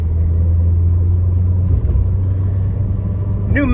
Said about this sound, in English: that's me grinding out my clutch